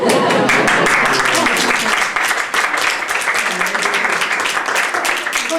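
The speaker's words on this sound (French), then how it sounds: "Applaudissez encore." Audience applause fills a French stage show, a dense, steady wash of many hands clapping throughout at fairly loud level, with no clear voices.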